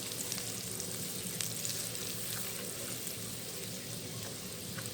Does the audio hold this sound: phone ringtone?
no